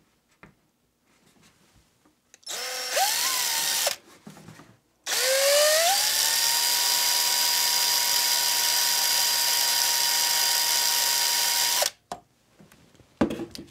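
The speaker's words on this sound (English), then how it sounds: "I'm going to start by doing a 3/16 pilot hole." Power drill boring a 3/16 pilot hole into a plastic gas can, with a short whirring burst, a pause, then a longer steady high-pitched drilling run before it stops, near and loud.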